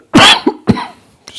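Two loud, close coughs from an adult man in a quiet room, followed by a fainter throat-clearing sound.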